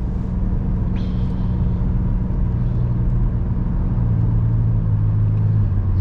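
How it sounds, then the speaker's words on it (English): A car pulling away after a left turn at night, its engine rumbling loudly and steadily as it gathers speed and the pitch rises slightly, heard from inside with no talking. "and then I accelerate up"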